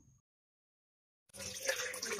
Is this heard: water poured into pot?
yes